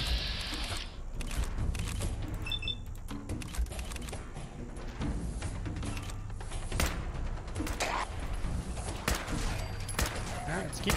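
Gunfire in Fallout 4 combat, rapid repeated shots crackling over a busy mix of mechanical clatter and game sound, with a voice talking now and then.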